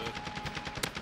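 Rapid bursts of shotgun fire in Call of Duty: Modern Warfare 2, a rhythmic series of heavy shots with one sharper, brighter blast near the end.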